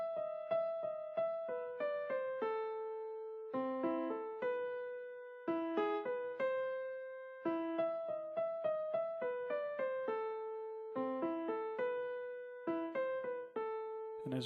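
A piano plays the right-hand melody of Für Elise alone, an easy tutorial arrangement with clear single notes in phrases separated by short pauses, close and steady, with no talking.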